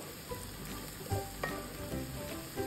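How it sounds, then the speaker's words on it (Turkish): Tomato paste frying with green peppers and other vegetables in a pan, a steady soft sizzle with light stirring clicks, close and fairly quiet, no voices. "Salçamızı da sebzelerle birlikte güzelce kavuruyoruz."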